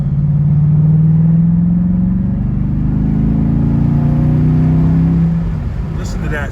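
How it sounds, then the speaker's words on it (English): A Dodge Durango SRT fitted with an MRT cat-back exhaust drives at night, its deep engine drone rising and shifting steadily as the SUV accelerates, loud and close throughout with no talking. "I am doing my first drive with the new MRT exhaust."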